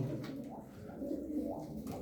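Silver çakmak pigeons sitting on their eggs coo softly and continuously, a low, rolling, throaty murmur heard close by with no talk.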